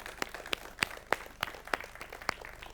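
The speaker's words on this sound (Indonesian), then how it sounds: "Tepuk tangan kawan-kawan sekalian" An audience at a life-therapy seminar gives faint, sparse applause. A handful of distinct, evenly paced claps sound at a distance over quiet room noise, with no talk.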